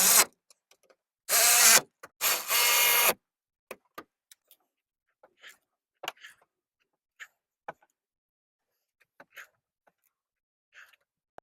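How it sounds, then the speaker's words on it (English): A ratchet tightens 12 mm nuts on a Toyota Camry rear shock mount, with two short bursts of rapid clicking early on followed by sparse, sharp single ticks spread across a quiet background. "we come up here and we tighten the 3 12 millimeter nuts completely down."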